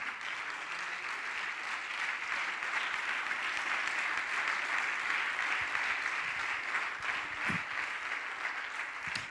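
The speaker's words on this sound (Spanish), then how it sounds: "denle ese aplauso al Señor" A congregation at a Spanish-language church service applauds, a sustained, dense wash of clapping that holds steady for several seconds with no speech over it.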